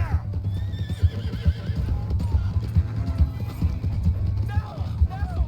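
A horse in Red Dead Redemption 2 runs with quick clip-clop hoofbeats and lets out whinnies, close and fairly loud, while voices shout over it.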